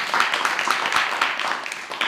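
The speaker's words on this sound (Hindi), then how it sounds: "वो तालियां हो इनके लिए" Pupils in a government school classroom in Uttar Pradesh clap together, a brisk, fairly loud burst of applause lasting a couple of seconds with little talk over it.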